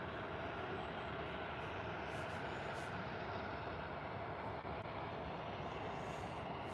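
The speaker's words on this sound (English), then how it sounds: "An ATR 72600 from Air Lingus on its way in." An Aer Lingus ATR 72-600 turboprop airliner arrives at Birmingham airport as a faint, steady, even roar that continues throughout.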